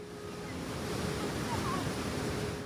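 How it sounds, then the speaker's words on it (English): Ocean waves breaking on a beach at sunset, a steady broadband wash of surf with some wind rumble, continuous and fairly close throughout. "The waves were amazing, the sound of the waves."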